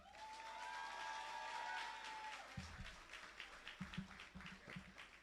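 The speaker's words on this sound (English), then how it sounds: "give them a resounding round of applause" Applause for graduates at a graduation ceremony rises as a soft, distant patter of many hands clapping that swells and then settles, recorded faintly with a low murmur from the crowd.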